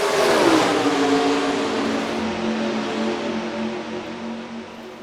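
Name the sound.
race cars accelerating at green flag in NR2003 racing game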